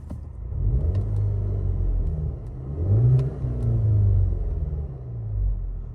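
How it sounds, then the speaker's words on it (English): A 2009 Volkswagen Scirocco 2.0 TSI engine idles and then revs twice in strong surges of deep rumble, dropping back between the pulls. "Give it a quick rev for you."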